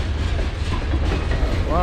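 Long mixed manifest freight train passing in Galesburg, Illinois: a brief, close rumble of rolling railcars with faint rhythmic wheel clatter and a voice briefly audible.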